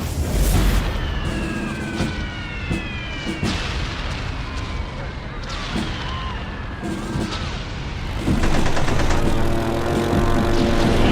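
Anti-aircraft gunfire and explosions in a Pearl Harbor attack scene: repeated loud booms and blasts land at irregular intervals over a rumbling din, growing heavier near the end.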